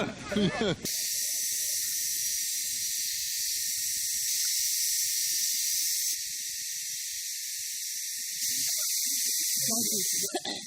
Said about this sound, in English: Cicada.